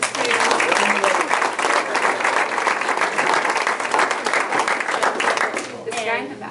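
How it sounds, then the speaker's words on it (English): An audience breaks into loud, sustained applause, dense clapping filling the room without a break before tapering off near the end. "Give him a round of applause."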